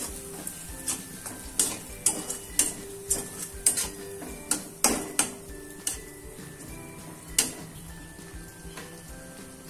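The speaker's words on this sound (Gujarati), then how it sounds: "આ રીતના પેલા બધું મિક્સ કરી દેશું." Spiced vegetables, potatoes and brinjal with masala, stirred in a pan, giving a run of sharp clinks and scrapes in an irregular rhythm over a low sizzle, close and alone.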